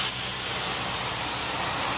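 A steam carpet cleaning machine running at 260 degrees hisses steadily and loudly, a constant broad spray of steam with no pauses, heard close and alone.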